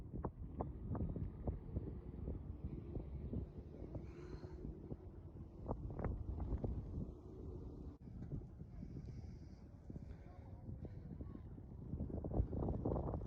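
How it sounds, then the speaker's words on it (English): Gusty wind buffets the microphone in low rumbling bursts among open white sand dunes, with faint voices now and then in the background. "I'm sure you could hear the wind. It is windy out here."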